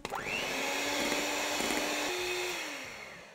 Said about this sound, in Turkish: Çok az, sadece 5 saniye kadar tekrardan çırpıyorum